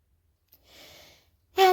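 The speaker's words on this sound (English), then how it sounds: "And a big exhale." A slow, breathy exhale during a gentle yoga session, soft and close, ending as a voice begins to speak.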